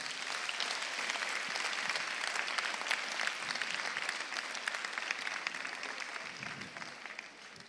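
A church congregation applauding steadily throughout, dense continuous clapping with scattered cheers, loud and close, no talking over it.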